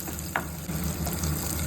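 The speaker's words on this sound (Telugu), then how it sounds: "ఆనియన్స్ అవన్నీ కొద్దిగా వేగాలండి" Onions and curry leaves fry in a pan with a continuous moderate sizzle, a couple of short clinks from stirring, and no talking.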